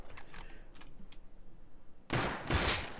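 Gunfire in the survival game Rust: a few faint, sharp shots early on, then a loud, dense burst of close rapid fire in the final second, with no talking.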